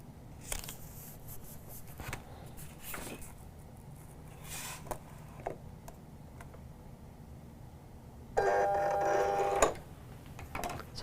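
Silhouette cutting machine cutting a white piece for a jungle party banner, with faint ticks and clicks followed by a louder steady mechanical whir lasting about a second near the end, in a quiet room.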